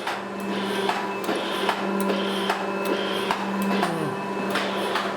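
A 3E711V surface grinding machine hums steadily under automatic vertical feed, with a constant tonal drone and regular mechanical ticks and clunks, one pitch dropping briefly near the end.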